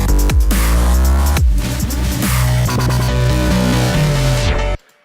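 Heavy dubstep drop with thick, loud low tones and wobbling synths, broken by brief cut-outs before the beat slams back in, ending abruptly.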